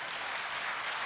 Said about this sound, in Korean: 큰 박수 한번 보내주시겠습니까?